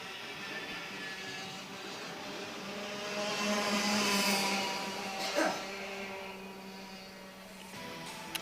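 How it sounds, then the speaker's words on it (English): A racing kart engine revs at a race track during a national karting championship, a steady buzzing drone that swells louder midway with a brief sharp burst, over a constant background wash. "Just listen to the difference in engine sound between the previous kart and this one."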